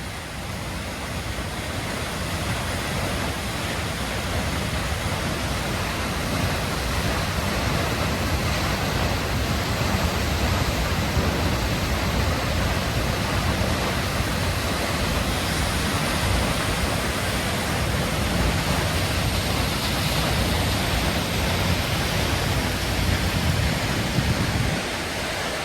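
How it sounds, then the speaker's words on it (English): Hardraw Force waterfall near Hawes roaring as a loud, steady, broad rush of falling water that fills the whole scene, with no voices. "Here's the waterfall."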